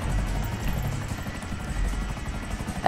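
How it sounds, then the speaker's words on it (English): A stealth helicopter in Grand Theft Auto V flies along with a steady, continuous rotor and engine drone at even loudness, ending in a brief sharper sound. "I've been flying this helicopter for like a year now"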